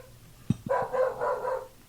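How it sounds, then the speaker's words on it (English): A dog outside a window gives one sharp bark followed by a few shorter yips, then a drawn-out whining howl. It is moderately close and heard alone, with no talk. "well, excuse the dog"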